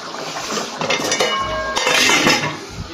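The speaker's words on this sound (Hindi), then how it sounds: "इसको हम तेज आंच पे अभी खुश्क कर लेते हैं पानी को।" Pepper potato chicken gravy boiling down over high heat in a pot outdoors in a forest, with steady bubbling and sizzling while metal utensils clink and scrape against the pot close by.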